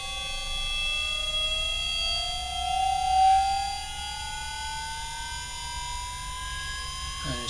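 A rising electric motor whine climbs steadily in pitch as it speeds back up after being overspeeded, a loud continuous tonal hum layered with several harmonic tones over a steady background drone, no voices.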